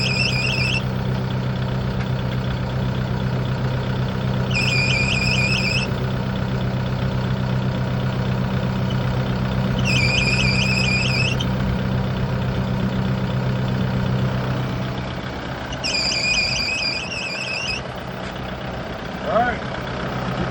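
A broom tractor's engine idles steadily with a low rumble while a belt or pulley lets out repeated high, wavering squeals in short bursts every few seconds, close and fairly loud.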